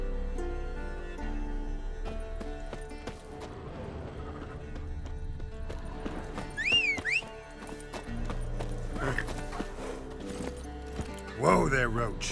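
Hoofbeats of Roach, Geralt's horse in The Witcher 3, clip-clopping steadily under a voice, with a couple of brief whinnies and a background music bed.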